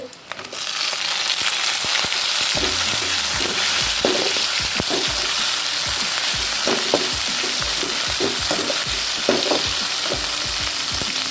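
Tomatoes and softened onions sauté in a hot pan for a drumstick masala curry, giving a loud, continuous close-up sizzle with frequent scraping stirs and soft knocks of the spoon throughout.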